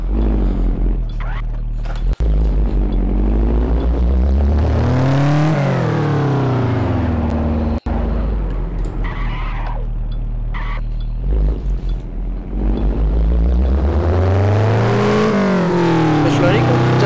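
A Citroën C2 in the CityCarDriving driving game accelerates loudly through repeated rising engine sweeps and gear changes, its revs climbing and dropping several times while a voice talks over it.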